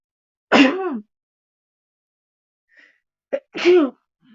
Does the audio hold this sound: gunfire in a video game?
no